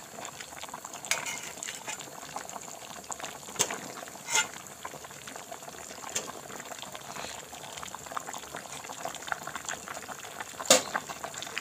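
A pot of boiled pork leg simmering, a steady low bubbling with occasional louder pops and clicks throughout, quiet and close.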